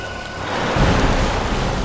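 Heavy rain pours steadily as a dense, continuous wash of noise, swelling louder partway through and holding there, with no voices.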